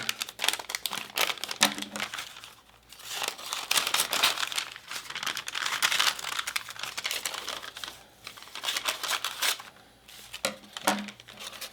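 Paper being cut out for a bigger cover for the end of a rainstick tube, with close, busy crinkling, rustling and snipping in uneven bursts and short pauses between them.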